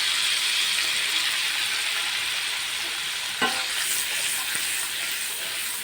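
A paste of garlic and dried red chili goes into hot oil with turmeric, making a loud, steady sizzle that fades slightly, broken by a clink of a utensil midway. Nobody speaks.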